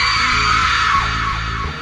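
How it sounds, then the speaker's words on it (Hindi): A woman's final scream in a Hindi horror story, a loud sustained yell that rises and then trails off, echoing with a low rumble beneath. "और दिव्या की आखिरी चीख वातावरण में गूंज गई।"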